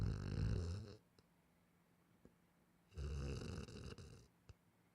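Two loud, close, rasping snores separated by a quiet pause, each a long rumbling inhale, with a few faint clicks in between and no talking.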